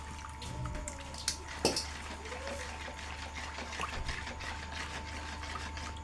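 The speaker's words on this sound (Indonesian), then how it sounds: "Kita tuang semua ya air gulanya." Sugar syrup pouring into a stirred dessert mixture, a soft continuous trickle with a few splashy bursts and clinks, fairly quiet against a low background hum.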